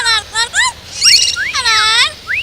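A pet bird at a bird fanciers' contest whistles up close in a quick series of chirps and sliding tweets, performing the Charge of the Light Brigade, bright and clear with short pauses between phrases.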